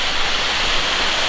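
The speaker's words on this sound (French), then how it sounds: "Alors c'est la fontaine au Togo." A public water fountain on Place des Terreaux in Lyon, recently renovated, splashing in a steady, dense hiss of falling water close by, continuous and unbroken with no voices.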